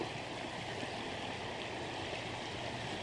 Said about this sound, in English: But look at the river. It's down right now. But isn't that beautiful? Can you hear it?